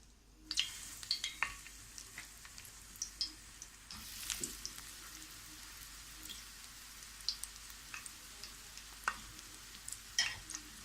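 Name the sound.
potato-stuffed bread rolls frying in oil in a pan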